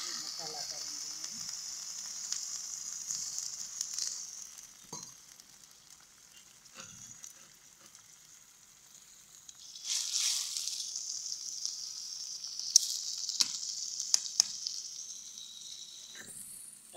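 Spices sizzle and fry in a pan over a stove, with a steady hiss that swells louder midway and carries occasional stirring scrapes, no voices over it.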